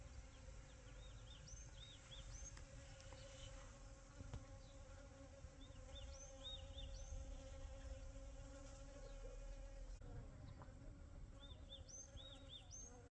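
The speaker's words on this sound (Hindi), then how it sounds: "और इसमें आवाज़ सुनो मधुमक्खियों की।" Bees buzz in a flowering mustard field, a faint continuous hum with small insect whines rising now and then, quiet and steady throughout.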